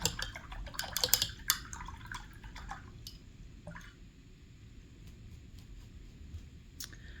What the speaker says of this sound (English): Cleaning my brush off in the dirty jar.